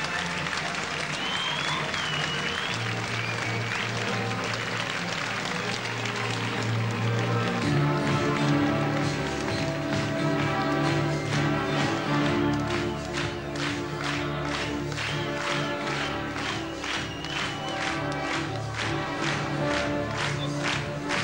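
Audience applause with scattered cheering for a line of girls called onto the stage at a 1988 Icelandic summer variety show, a dense steady clapping that runs the whole time over loud stage music.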